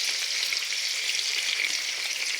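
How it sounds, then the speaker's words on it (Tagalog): Food frying in olive oil in a pan, with a steady, dense hiss and crackle that stays even throughout and no voices over it. "Pinirito ko siya sa olive oil na mantika."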